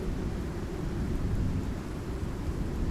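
A steady, loud thunderstorm in the survival game Icarus, a continuous deep rumble with no sharp cracks, heavy and unbroken throughout without any voices.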